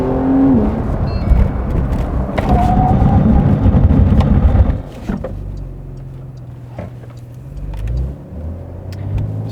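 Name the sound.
Porsche 911 992 Carrera S braking hard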